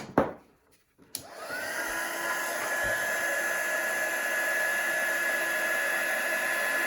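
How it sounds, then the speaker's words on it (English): After a couple of soft knocks, a heat gun switches on and blows a steady, loud whirring rush over embossing powder on a cardmaking project, running without pause to the end. "we're going to hold that heat gun still"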